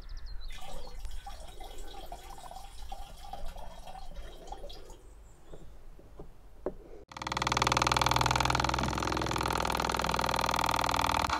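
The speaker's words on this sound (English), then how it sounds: "I'm going to do something I've never done before, which is to pour some water into my diesel." Dyed water is poured into diesel fuel, giving soft trickling and dripping over a faint background hum, then an engine-like machine drone cuts in loudly and runs steadily to the end, with no talk.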